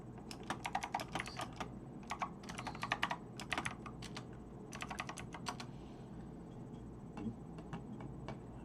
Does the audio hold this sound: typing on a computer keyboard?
yes